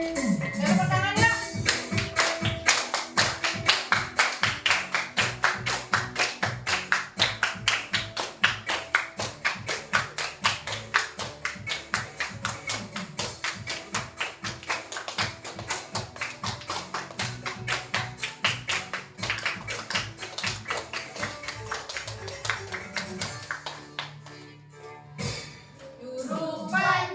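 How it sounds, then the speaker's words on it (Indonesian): A group of children clap steadily in time while singing a regional folk song together in a classroom lesson, the rhythmic claps running throughout alongside their voices. "Tepuk tangan ya."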